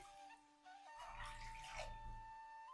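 Water pours steadily into a cooking pot with sugar and vanilla sugar for syrup, a soft close splashing stream that swells after a brief quiet start and keeps running.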